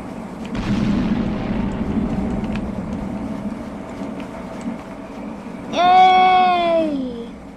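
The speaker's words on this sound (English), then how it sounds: "The train is here. The train, get on the train." A train arrives in the Roblox game Jailbreak with a loud, steady horn blast near the end, over a rumbling game background.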